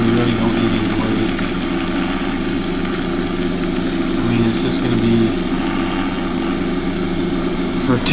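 A farm tractor's engine idles steadily at close range, a low continuous drone throughout while someone talks over it.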